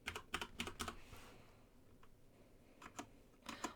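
A staff ID tapped out on a computer keyboard: two quick bursts of light, clicky keystrokes separated by a pause, quiet and close, with nobody speaking.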